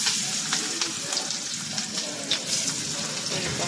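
Fish pieces coated with egg frying in a pan give a close, continuous crackling sizzle dotted with small pops, with no talk over it.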